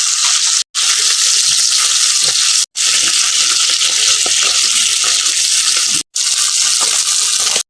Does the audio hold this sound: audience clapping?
no